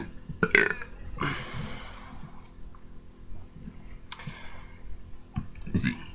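A series of loud, close burps comes in several separate bursts over a few seconds, each a short croaking belch with quieter gaps and small mouth clicks between.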